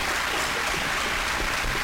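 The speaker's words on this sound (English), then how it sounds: "Let's give these guys a round of applause for those responses" Audience applause at a gubernatorial campaign debate, a steady, dense wash of clapping that holds evenly throughout without voices.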